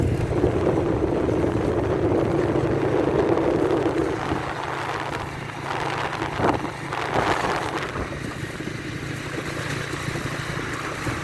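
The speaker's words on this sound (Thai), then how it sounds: "ขับรถชมวิวกันฮะกินลมชมวิว" Wind rushes steadily past a vehicle driving through open countryside at sunset, a continuous close buffeting roar with some low engine rumble, loud throughout with a few gusty swells and no talk.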